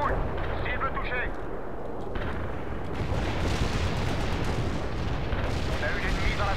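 Artillery barrage in the real-time strategy game World in Conflict, a continuous dense rumble of distant booming shell fire and impacts that goes on throughout, with someone speaking French over it.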